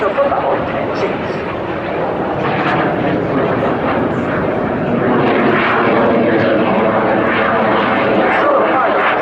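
Frecce Tricolori MB339 jets roar through a flying display at the Royal International Air Tattoo, a loud, steady whooshing engine drone that swells slightly toward the end as the aircraft pass.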